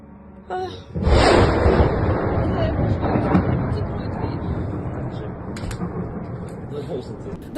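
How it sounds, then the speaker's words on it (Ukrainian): A heavy blast from a drone strike in Oryol, Russia, erupts into a sustained roaring rumble that slowly fades, with faint voices and distant crackles underneath. "Росіяни зняли багато відео, на яких чутно звуки вибухів та видно задимлення."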